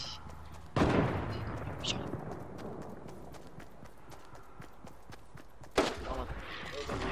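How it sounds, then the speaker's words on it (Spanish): Gunfire in the Fortnite video game, two sharp loud bangs a few seconds apart, the first with a brief tail, over faint background and quiet talk. "Escuché como disparos por 60, parece, ¿o no?"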